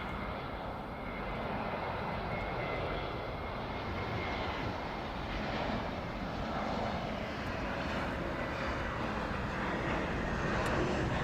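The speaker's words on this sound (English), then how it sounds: "A320-01 Neo coming in from Christchurch." An Airbus A320neo airliner arriving at Auckland Airport from Christchurch, a steady broad engine roar held at a distance for several seconds, swelling slightly toward the end.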